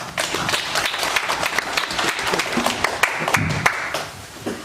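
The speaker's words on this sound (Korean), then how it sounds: "큰 박수 부탁드리겠습니다" Audience applause at a farming education seminar on pepper cultivation, soil and fertilizer management, a dense crowd clapping steadily and fairly close for several seconds before fading out near the end.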